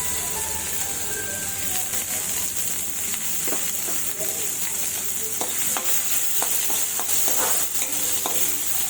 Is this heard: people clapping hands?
no